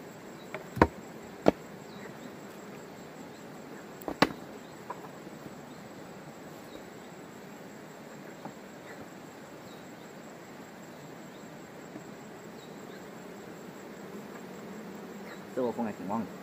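Chinese honeybees buzz steadily around an opened hive in a mountain apiary, a dense, even drone that runs throughout, broken by a few sharp clicks and knocks and a brief murmur near the end.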